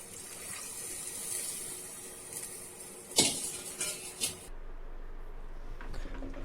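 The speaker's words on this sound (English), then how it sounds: "Next I'm going to add some water." Blanching water, green and full of nutrients, is poured into cooked dal for a Vallarai Keerai kootu in a home kitchen, giving a brief splash and a few clinks of a utensil against the pot, with no talk.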